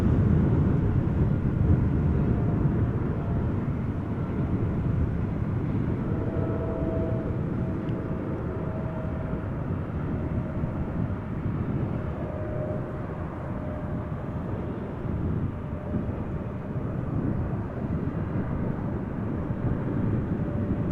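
A TUI Boeing 787 Dreamliner arriving on a runway at Amsterdam Schiphol Airport, heard as a broad, steady low roar of engine and wind noise that holds level the whole time, distant and unbroken, with no voices.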